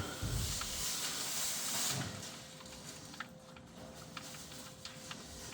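Engine oil draining from the sump of a Land Rover Defender Td5 gives a steady close hiss and splatter that is strongest at first, then thins to a quieter trickle with a few small drips and clicks.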